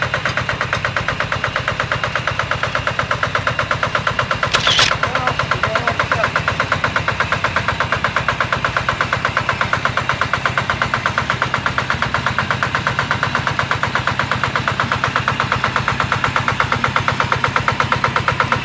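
A surplus Japanese hand tiller engine runs steadily and loudly nearby, its rapid even chugging holding throughout with one brief sharp knock partway in.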